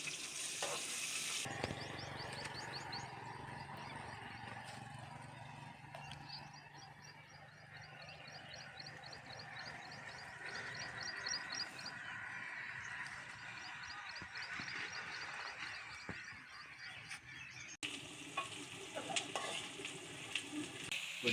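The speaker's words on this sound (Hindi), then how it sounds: "प्याज को अच्छी तरह से ब्राउन करेंगे।" Onions browning in hot ghee in a kadhai, a steady broadband sizzle that runs nearly unbroken for about twenty seconds and stays fairly close and even, with faint scraping of stirring underneath and no talking.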